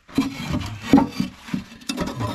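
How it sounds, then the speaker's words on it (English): A metal scraper rasps against firebrick inside a wood stove while the baffle is lifted during a chimney sweep, giving a few short, close scraping strokes and knocks with small gaps between them. "get onto the brick with your scraper"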